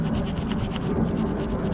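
Rust is scraped out of the grooves of a brake caliper bracket on a 2018 Mazda 3, giving rapid, gritty rasping strokes close up in a short continuous burst.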